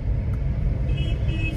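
Close road traffic in a jam near Amer rumbles continuously with deep engine noise from idling and slow-moving vehicles, and no voices.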